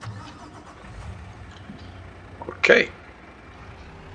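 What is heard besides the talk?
truck engine starting in video game Farming Simulator 22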